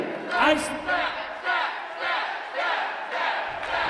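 A wrestling crowd at an indie show chants in rhythmic bursts, loud massed voices rising and falling roughly every half second.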